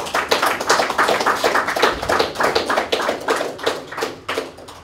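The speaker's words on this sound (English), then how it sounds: "I think he deserves a round of applause." An audience at an agribusiness training seminar opening ceremony claps steadily for several seconds, a dense patter of applause that starts to thin toward the end.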